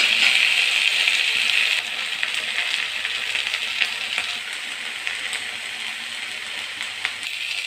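Jute greens fry in a hot pan while being stirred, giving a steady bright sizzle with faint scraping clicks from the spatula, a close, continuous crackle with no talk.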